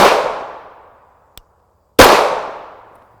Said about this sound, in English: Maybe I'm shooting too high.